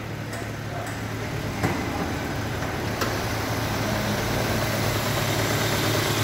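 A 2005 Kia Spectra engine idles up close with a steady low hum and even rumble, a few faint clicks and taps over the constant drone.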